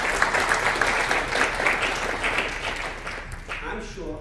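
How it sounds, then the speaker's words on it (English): Audience applause at a talk, a crowd clapping densely and steadily for several seconds before tapering off as a voice begins to speak. "Please, big applause."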